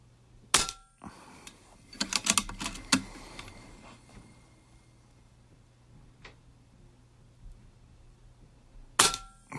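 Rifle shots fired at a range while testing an Element Optics Helix 6-24x50 scope, sharp distant cracks heard singly and in a quick cluster with faint ticking in between, quiet and sparse.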